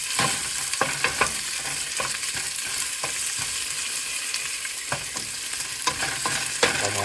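Ginger and onion sautéing in a hot pan with garlic while cooking langka and pata, a steady close sizzle with occasional scraping clicks of stirring.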